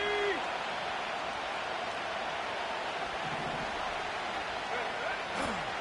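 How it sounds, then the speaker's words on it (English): Steady broadband stadium crowd roar from a Madden football video game, continuous and fairly loud throughout a third-down play, with a game commentator's voice talking over it. "And the crowd a major factor now as we get to 3rd down."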